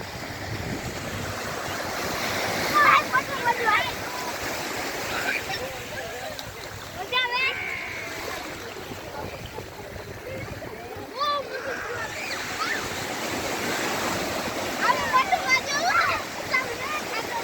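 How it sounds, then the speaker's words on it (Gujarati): Gentle sea waves wash and surge in a continuous roar with wind buffeting at the beach at Somnath, while people talk intermittently in the background. "સોમનાથનો દરિયો ખુશનુમા અને એકંદરે શાંત અને ધીમા ઉછળતા મોજાઓ આપણને પ્રત્યક્ષ દેખાય છે"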